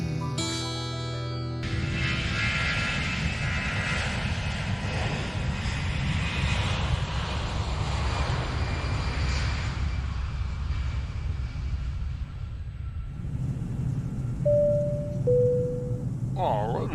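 Airplane engine drone in flight, a steady low cabin roar that continues under someone speaking. A two-tone chime sounds near the end.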